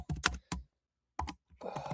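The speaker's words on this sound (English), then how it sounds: "Now I'm typing my 4-star play." Someone types on a computer keyboard up close, producing bursts of quick clicking keystrokes separated by a brief pause, with no talking.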